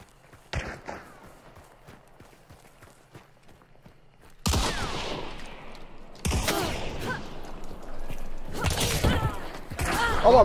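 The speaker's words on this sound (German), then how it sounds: "Aber einer schießt auf mich." Gunfire in Hunt: Showdown comes as a faint distant shot, then three sharp, loud reports spaced a couple of seconds apart. Each blast leaves a rumbling echo, with soft footsteps and movement in between.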